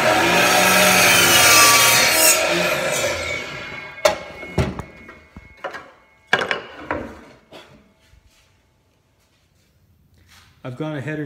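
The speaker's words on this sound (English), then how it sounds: "On 2 of the 38-inch boards, we're going to slice off a 45-degree angle at the end here" Hand saw cutting a 45-degree angle off the end of a 38-inch wooden board for a Gorilla Cart side rail, loud steady rasping strokes at first, then scattered knocks and handling sounds, a pause, and rasping resuming briefly at the end.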